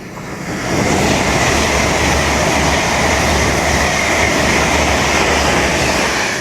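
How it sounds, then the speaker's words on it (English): An LNER Azuma train on the East Coast Main Line at Retford thunders past close by, a loud, steady roar of wheels and rail noise that swells in and holds for several seconds. "an LNER Azuma from London King's Cross to Aberdeen"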